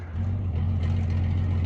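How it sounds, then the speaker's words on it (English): A Mercedes truck in the Wadi Rum desert of Jordan gives a steady, loud low engine drone nearby, with no talking. "Look at this Mercedes. That's a proper truck."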